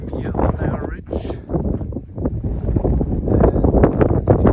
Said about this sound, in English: this will be a windy night.